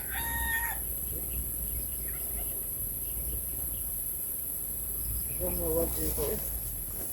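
Red junglefowl calls near the start and end, a short harmonic cluck and crow-like notes, over steady insect buzz and faint background voices.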